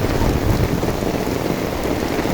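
Heavy monsoon rain pours down in a village in Burichang, Cumilla, a steady dense hiss with a deep rumble underneath, loud and unbroken throughout.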